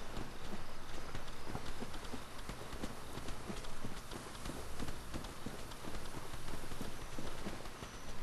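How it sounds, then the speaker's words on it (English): Footsteps in Dark Souls land as a rapid, steady patter of clip-clopping thuds over a dense, noisy background, continuing evenly throughout at moderate distance. "Okay, I hear footsteps"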